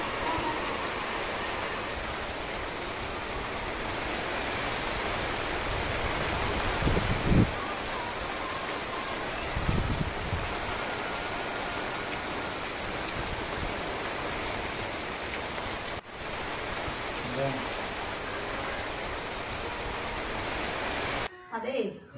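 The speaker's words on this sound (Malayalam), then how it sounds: "നോക്ക് പുറത്ത് നല്ല മഴയുണ്ട്." Heavy rain pours steadily outside, a dense continuous hiss with occasional louder surges, close and unbroken for the whole stretch.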